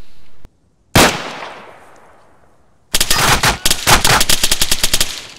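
Weapons demonstration in the video game Arma 3: one loud gunshot with a long fading echo, then a rapid burst of automatic gunfire with closely spaced sharp cracks, near and very loud.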